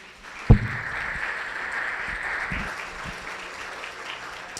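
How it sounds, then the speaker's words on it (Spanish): A crowd applauds steadily with a dense wash of clapping, starting after a sharp thump and carrying on evenly at moderate loudness. "Le damos un fuerte aplauso a Dios."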